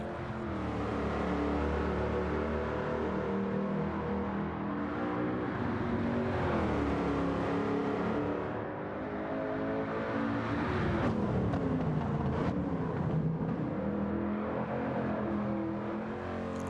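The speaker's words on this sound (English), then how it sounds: "one of the better sounding cars in the game" A 1967 Ford Mark IV race car engine in Gran Turismo 7 drones steadily, its pitch rising and falling as it accelerates and shifts, continuous and fairly even in level.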